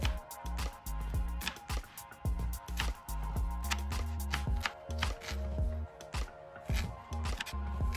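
A knife chops red onion on a board in a fast, steady run of sharp, close knocks with a few short pauses.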